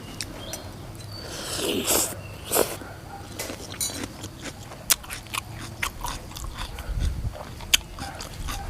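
Crunchy chewing of spicy Thai green papaya salad, close to the mouth, with repeated crisp bites and wet mastication in an irregular rhythm, and occasional clinks between the bites.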